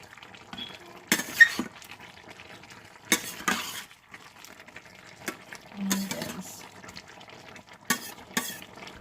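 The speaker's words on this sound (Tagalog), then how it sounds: "So, haluin natin ulit." A spoon scrapes and clatters against a metal pot, stirring chicken and pork stew in tomato sauce in irregular strokes, with soft bubbling and quiet pauses between.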